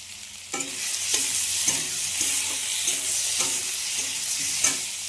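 Boiled potatoes fry with turmeric in a pan, giving a steady loud sizzle broken by regular scraping strokes of a stirring spoon about every half second.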